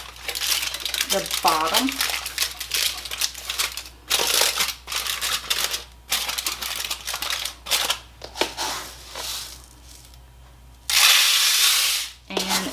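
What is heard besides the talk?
rice poured into foil lining a pie crust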